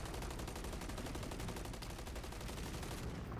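Rapid automatic gunfire in an Overwatch-style shooter video game, a dense, loud stream of rhythmic shots rattling continuously for several seconds, with no pauses and no talking.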